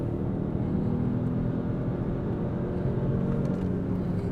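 Citroen C5 Aircross mild hybrid SUV (mHEV) accelerating, a steady low engine and road rumble heard from inside the cabin, fairly quiet and continuous with no talk.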